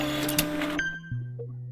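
A printer in a Roblox animal hospital game whirs with a mechanical buzzing feed, then stops with a click and a lower motor hum trailing off, short and fairly close.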